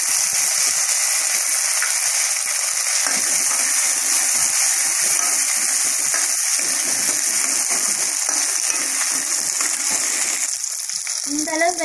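Small shallots hit hot oil in a pan while cooking egg masala, giving a loud, steady sizzle and crackle that carries on throughout, close up and without speech.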